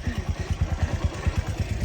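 A motorcycle rides over a rough road toward Hulangala Mini World's End in Sri Lanka. Its engine throbs close and low in a quick, even pulse for a couple of seconds.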